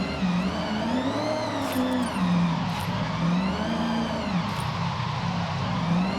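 Mitsubishi Evo IX engine in Forza Horizon 6 held at low RPM while drifting, a steady, close, wavering drone with a rising and falling pitch and light tire skid throughout, no talking.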